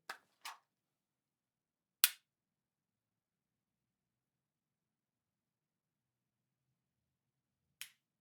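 A handgun's trigger resets with sharp, dry clicks: two quick ones close together at the start, another a moment later and a final one after a long silence, all close and isolated.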